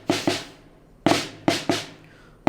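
Snare drum pattern of a left-handed flam followed by a right-handed double stroke, repeated crisply about three times with sharp attacks and short decays, close and alone.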